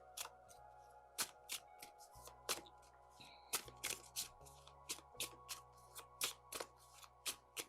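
Tarot cards are shuffled repeatedly during a card reading, a quiet series of crisp riffling slaps and soft taps in an irregular rhythm against a faint low hum.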